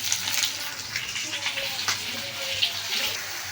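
Gourd pieces drop into a pan of hot oil with spices for a fish-head curry. A steady, close, loud sizzle and crackle with splashy, water-like hiss runs throughout.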